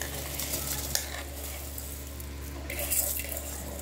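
Rice is stirred into boiling water in a cooking pot for homemade chicken biryani, giving soft scraping and watery swishing over a bubbling hiss and a steady low hum.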